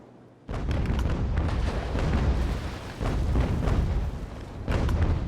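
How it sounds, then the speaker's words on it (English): Sailing warship cannons in Ultimate Admiral: Age of Sail, a rapid broadside of heavy booms rolling into one another over several seconds, loud and close, with fresh bursts landing near the end. "Fire as your guns bear"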